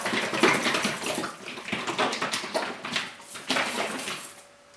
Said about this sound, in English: we shake it all up. So make sure you mix it up all really well